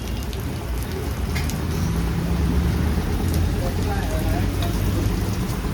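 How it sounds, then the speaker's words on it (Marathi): Heavy rain pours down outdoors in a steady, dense roar, with a low rumble of traffic or a passing vehicle underneath and no clear talk. "पावसाचं प्रमाण वाढलेलं आहे"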